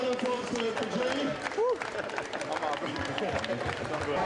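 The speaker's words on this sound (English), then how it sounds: "let's have a round of applause for Jamie" A crowd at the Body Power Expo boxing area at the NEC in Birmingham gives a round of applause for a boxer, steady clapping and cheering mixed with crowd noise and a voice over a loudspeaker.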